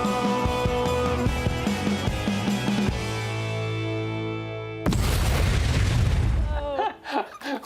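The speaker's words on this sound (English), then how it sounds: "we have a new explosion for our opening of our episode" A loud booming explosion opens a talk show, an abrupt broadband blast that cuts in after a sustained musical stinger and rumbles for a few seconds before fading.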